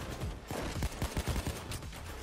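Gunfire in the heist shooter game Payday 2, a quick run of heavy shots with several punchy reports in a row under game noise.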